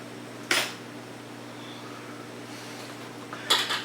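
Kale sausage sliced into rings with a knife, giving two crisp clicking strikes against a board a few seconds apart over a steady low hum.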